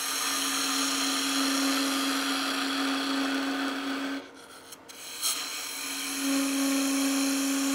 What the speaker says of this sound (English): I'm gonna come back to my bowl gouge again. 1/8 inch to 3/16 of an inch cut.